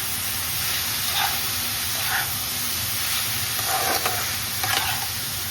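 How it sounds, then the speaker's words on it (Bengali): Vegetables for chowmein frying in a pan while being stirred, a steady close hiss of sizzling with a few scraping strokes of the spatula, no talking. "এখন ভালোভাবে একটু নেড়ে চেড়ে দিচ্ছি।"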